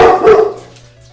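A dog barks once in a room, a single loud, close bark that starts abruptly and trails off into a brief whimpering tail over a faint low hum.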